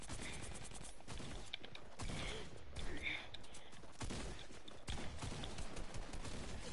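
Gunshots in the Fortnite video game: dense bursts of rapid gunfire packed with sharp cracks and clatter, running continuously at moderate level through a busy mix of game sound.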